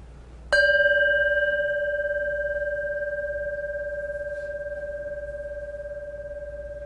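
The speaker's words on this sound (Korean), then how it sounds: "금방 종소리가 있었죠" A single bell is struck once during a Buddhist Dharma service, sounding a sharp onset and then a pure, sustained ringing tone that decays slowly over several seconds in a quiet room.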